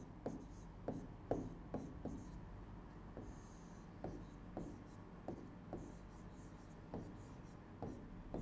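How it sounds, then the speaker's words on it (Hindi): Chalk or pen strokes on a board during a Hindi maths lesson, a steady series of short, regular scrapes and taps about every half second, fairly faint against a low room hum with no talking. "मैं लिख देता हूँ थोड़ा सा"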